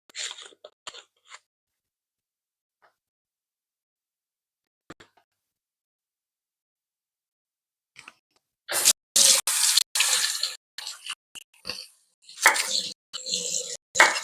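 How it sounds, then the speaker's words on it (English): Tap water runs into a sink as beef is washed off hands, arriving after long near-silence as loud, close splashing bursts that stop and start, with no talking. "I'm just going to wash the beef off my hands in a different room"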